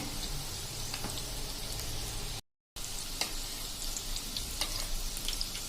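Gogli bhajiya, small drops of gram flour batter scattered into hot oil over a medium flame, giving a steady close sizzle with scattered pops, cut by a brief silent gap before the frying resumes.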